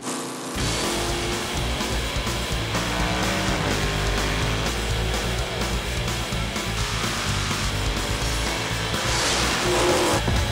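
Big block Dodge Challenger drag cars, Mopar racers in an all-Mopar final at Indy, fire up into a loud, dense, continuous engine roar that starts after a brief silence and holds steady throughout.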